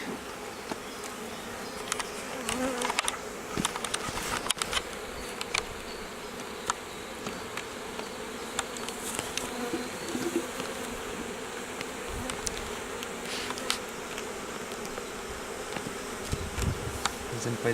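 Honeybees swarm and buzz around an open beehive in the Bois de l'Offlarde woods, a dense continuous drone with individual insects zipping close past, steady and fairly loud throughout.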